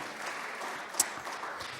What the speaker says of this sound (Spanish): Denle un fuerte aplauso a Él en esta noche.